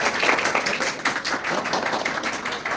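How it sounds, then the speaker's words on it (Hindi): Moderate applause greets the chief guest at a school World AIDS Day event, a soft, uneven patter of many hands clapping continuously for a few seconds. "तालियों के साथ अपने मुख्य अतिथि का"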